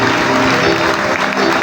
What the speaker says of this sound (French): Acclame très bien pour le Seigneur des Seigneurs.